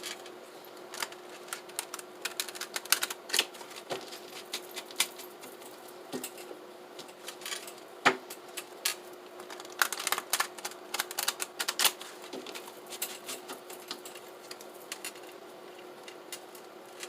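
Quick, crisp riffling and snapping of a deck of tarot cards being shuffled, repeated in bursts close up with no talking.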